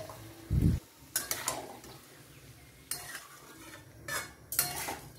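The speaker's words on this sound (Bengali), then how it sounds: "তারপর তরকারিটাকে ভালো করে কষাতে হবে আর স্বাদ মতো নুন দিতে হবে।" Chicken feet curry being stirred and fried in a pan, heard as intermittent bursts of scraping and clattering from a utensil, with a dull thump near the start and quiet gaps between strokes.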